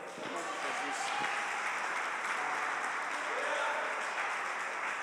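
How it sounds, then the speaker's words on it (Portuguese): A church congregation applauds continuously during a Pentecostal service in Campo Belo, Minas Gerais, a dense, sustained wash of clapping filling the hall for several seconds. "aplauda ao Senhor"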